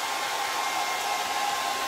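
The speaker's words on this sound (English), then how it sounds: "So we're back to the hairdryer for a minute." A hair dryer blows steadily at close range, drying paint, a constant broadband whoosh with a faint whine, no voices.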